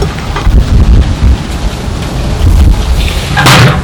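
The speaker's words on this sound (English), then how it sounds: "Yeah, the wind's blowing." Wind blows outdoors at an open-air Dutch oven pork roast cookout, buffeting the microphone with loud, rumbling gusts that swell and fade, with no talking.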